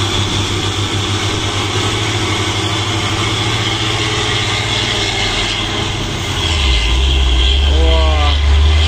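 Heavy Hino truck engine labouring uphill on a steep road, a loud continuous low rumble that swells and deepens toward the end, with a voice talking over it.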